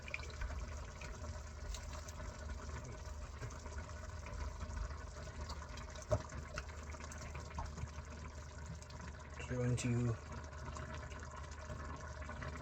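Water runs into an emptied container at a low level during lunch prep, a soft steady pour and trickle with a brief splashier burst near the end, under a few quiet spoken words.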